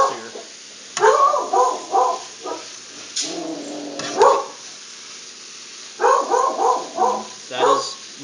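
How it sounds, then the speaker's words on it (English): A dog barks in a home kitchen while meat sears for a rogan josh curry, loud close barks in two quick bursts of several each, with a short pause between them. "My dog barking."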